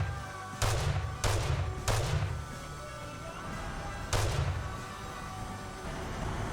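Heavy tank cannon shots in a multiplayer tank game, four loud booming blasts with rumbling tails, three fired in quick succession and a fourth after a pause, over a steady engine drone.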